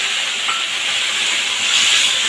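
Water hits a pan of frying Malabar spinach and prawns, setting off a loud, steady hissing sizzle close by that holds throughout without pause.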